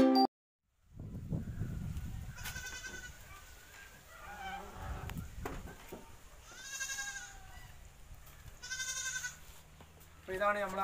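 Malabari goats in a goat shed let out several wavering bleats, a couple of them loud and close, with a person talking in between.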